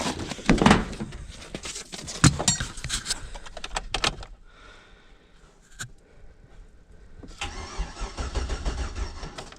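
A cammed maroon truck engine, started after sitting all winter, cranks and catches loudly with rough bursts, drops to a quieter stretch, then settles into a loud, steady, lumpy idle close by.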